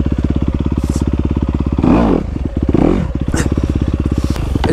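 A Honda CRF250R dirt bike idles with a steady rapid putter, then revs hard twice in loud rising bursts during a spin before settling back to a choppy idle, close by with no talking.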